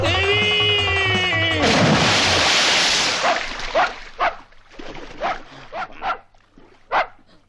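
A dog barks about seven times in short, sharp, uneven bursts in a comedy film scene, following a loud blaring burst of sound at the start.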